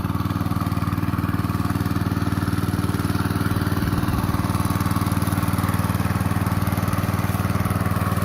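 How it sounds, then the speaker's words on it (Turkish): Two water pump motors run together while watering a garden, a loud, steady, close engine-like drone with a fast even pulsing throb that holds unchanged throughout, no talk. "Şu anda iki tane motor çalışıyor aynı anda."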